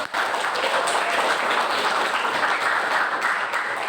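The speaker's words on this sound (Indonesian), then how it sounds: "Oke, kita kasih aplaus untuk kita semua" Classroom applause during a guidance lesson, a steady wash of many hands clapping together, close and sustained for several seconds with no speech over it.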